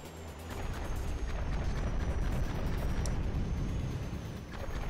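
Missile turret blasts in the video game Ratchet & Clank 3 make a sustained, rumbling barrage of booms, moderately loud and continuous, with no talk over them.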